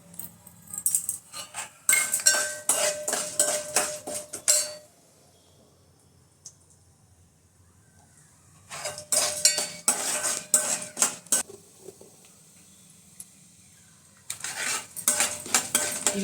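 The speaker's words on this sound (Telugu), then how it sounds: "ముందు మినపప్పు వేసుకోవాలి." Urad dal goes into a pan with ghee and is stirred, bursts of rattling, scraping spoon-on-metal clatter separated by quiet gaps, close up and without speech.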